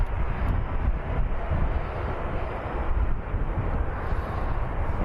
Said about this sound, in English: Air France from Paris is next in the Embraer E190.